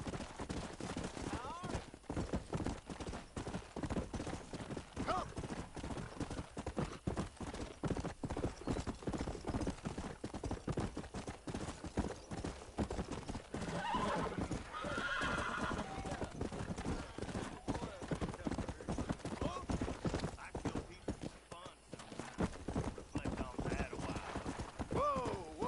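Galloping horses in the video game Red Dead Redemption pound along continuously with rapid hooves and whinnies, gunfire bursting in around the middle while someone talks over the action.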